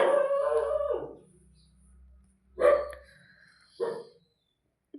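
A dog howls close by, a long wavering howl at the start followed by two shorter howling yelps and a final brief cry, with quiet gaps between them.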